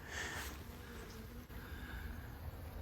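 Honey bees in an open hive during a varroa treatment, a continuous close, droning buzz of many insects at steady loudness throughout.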